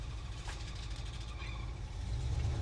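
A 1966 Jeep Gladiator truck, back on the road after more than twenty years, runs with a steady, rough low engine rumble and road noise that builds slightly toward the end.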